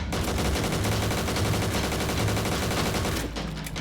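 Rapid sustained automatic gunfire from the MX4 G in the shooter game Point Blank, a dense continuous burst of shots at steady loud level for over three seconds, stopping abruptly near the end.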